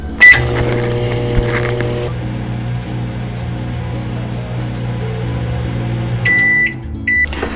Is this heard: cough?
no